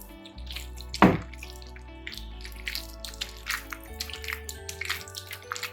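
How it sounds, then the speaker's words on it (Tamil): Milk is poured into fermented dosa batter for a kadai cake, a single close liquid splash near the start followed by softer drips and sloshing in a kitchen with a low hum underneath. "பால் சேர்த்துறேன்."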